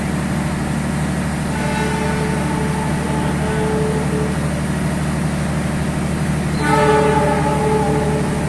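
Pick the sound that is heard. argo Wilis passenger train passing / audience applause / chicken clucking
argo Wilis passenger train passing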